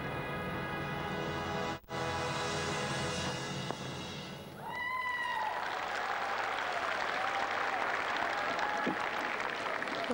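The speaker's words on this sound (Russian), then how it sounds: "Майя Зайнуллина порцию зрительской любви, аплодисменты" Spectators applauding at a rhythmic gymnastics all-around competition at the 2007 Universiade, a broad wash of clapping that swells in after a quieter stretch with music fading and continues steadily from the arena.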